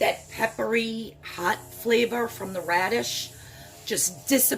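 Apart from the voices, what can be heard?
No distinct noise like a dog, phone or traffic.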